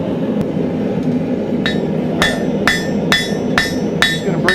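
Blacksmith's hammer striking hot steel while drawing out a taper, a series of sharp ringing metallic blows coming in a steady rhythm that starts sparse and grows regular, close and loud over a low background hum.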